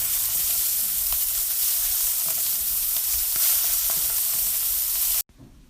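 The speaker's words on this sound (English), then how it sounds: "second side is cooking now, and I'm again doing that beautiful basting each scallop in the hot cooking fat." Scallops sear in hot cooking fat while being basted, giving a loud, steady sizzle and crackle with a few light pan scrapes. The sizzle cuts off abruptly near the end.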